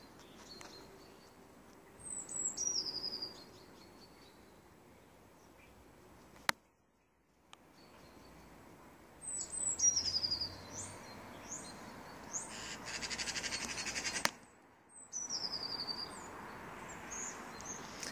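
A magpie calls in a garden on a cold early-spring day. Its thin, high, down-sliding calls come in three separate bursts, moderately distant over a quiet outdoor background, with a couple of sharp clicks between them.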